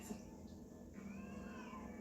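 A cat meows in a horror film scene about a reanimated dead cat, a faint drawn-out cry with a rising, wavering pitch over a low steady hum.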